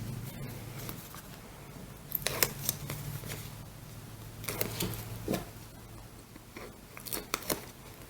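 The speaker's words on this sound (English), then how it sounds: "we'll remove the tape backing on that" Tape backing peeled off paper while assembling a handmade photo booklet, heard as a few brief crackling, ripping bursts separated by quiet handling noise, close and moderately soft.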